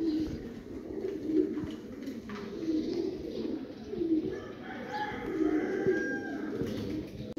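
Golden pigeons of the Hira Lal breed coo in low, repeated throaty phrases, steady and close, with faint other bird calls and background noise behind them.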